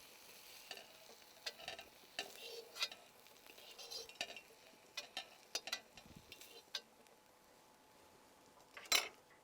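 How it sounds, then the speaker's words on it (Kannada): Bitter gourd gojju is spooned into a serving bowl with soft scraping and stirring, broken by light metal clinks of a spoon against the pan and bowl, quiet and close, with one sharper clink at the end. "ಇದನ್ನು ಇವಾಗ ಒಂದು ಸರ್ವಿಂಗ್ ಬೌಲ್ಗೆ ಹಾಕ್ಕೊಳ್ಳೋಣ"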